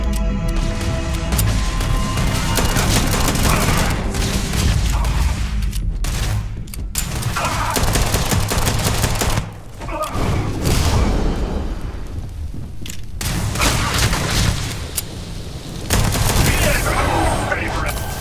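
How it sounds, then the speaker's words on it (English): Sustained gunfire in the video game Starfield, loud and dense, with sharp shots and bullets ricocheting off cover, plus booming impacts and a brief lull midway; voices speak over the fighting. "Bullets are bouncing right off!"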